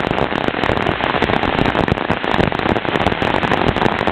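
Sudden heavy rain on a hilltop, a loud, dense, continuous patter and crackle of drops hitting surfaces close by, steady throughout with no talk.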